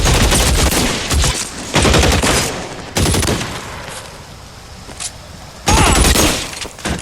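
Bursts of loud automatic gunfire from a shootout in the video game L.A. Noire, several sustained volleys separated by brief quieter gaps with scattered single shots, no talking.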